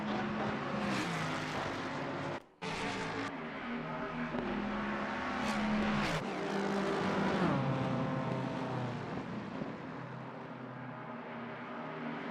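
Race cars lap Watkins Glen in a racing sim video game, including a Mustang and a BMW, with continuous loud engine roar, revving and gear changes, cars passing by and a brief cut in the sound, with no talking.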